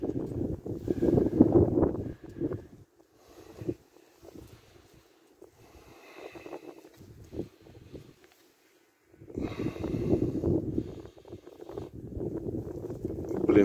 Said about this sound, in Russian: сильно ветер дует.